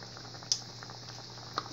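Vinegar sauce simmering in a pan, a quiet steady bubbling hiss with two brief louder pops, no voices.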